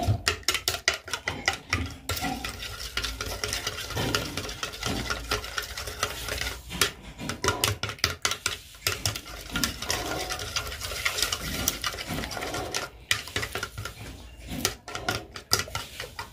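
Eggs with a little sugar beaten in a bowl, a fast steady patter of whisking strokes tapping the bowl, close and fairly loud, with brief pauses in the rhythm and no talking over it.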